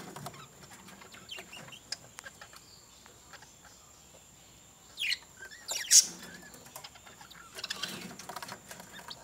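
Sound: pet parakeets chirping

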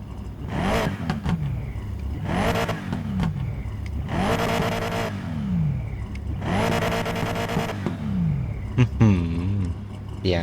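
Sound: car engine revving in Need for Speed Payback video game

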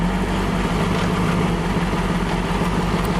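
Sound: car engine being started and idling

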